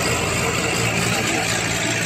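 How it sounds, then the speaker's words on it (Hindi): A tractor labours in a wet, muddy field with its wheels slipping, giving a loud, steady engine drone that fills the short stretch without a break. "ये स्लिप देखे काट रहा है ट्रैक्टर।"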